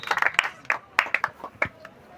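Scattered hand claps from an audience at a lawn tennis competition ceremony, given for the sponsor, land as a few sharp, uneven bursts close by, with a voice heard faintly alongside.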